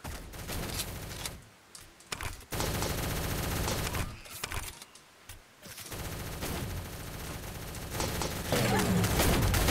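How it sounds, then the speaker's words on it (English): Semi-auto gunfire in the Shell Shockers video game on the Bastion map: loud, dense volleys of rapid shots that stop briefly twice, then resume and run on continuously with no voices. "You and your blooming, what are they called? Semi-auto guns."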